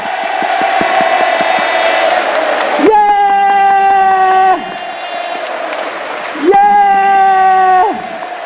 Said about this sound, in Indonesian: mari kita tepuk tangan seperti anak-anak